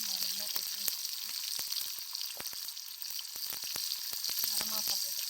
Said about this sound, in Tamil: ஜீரகம் பொரிஞ்சோன்னா கொஞ்சம் பூண்டு நசுக்கி வச்சுக்கலாம். வெங்காயம் போட்டுக்கலாம்.